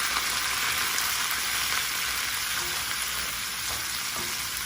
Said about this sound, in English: And I'm gonna let that fry